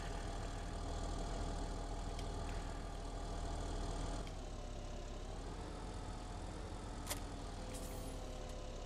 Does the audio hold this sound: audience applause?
no